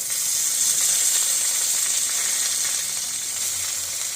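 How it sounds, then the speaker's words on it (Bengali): Greens, eggplant and potato fry in hot oil with browned chopped onion and green chilli. The sizzle is a steady, close, bright hiss with faint stirring scrapes and no voices. "পেঁয়াজটা লাল লাল হয়ে গেছে এবার আমি শাক আর বেগুন আলুটা দিয়ে দিচ্ছি"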